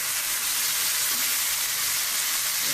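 Chicken pieces frying in a pan give a dense, loud, steady sizzle, an unbroken bright crackle that fills the sound closely from start to finish with no talking.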